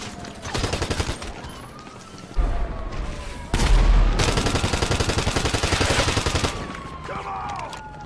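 Rifle fire in GTA Online, heard as rapid automatic bursts that rattle in long runs of closely spaced shots, with a couple of heavier booms mixed in and a whistling tone sweeping through the battle.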